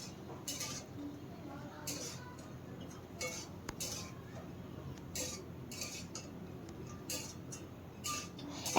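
Kalmi greens tossed with fried lentil nuggets (bori) in a pan, utensil scraping and clinking against the metal in scattered, soft bursts at close range over a low, steady background.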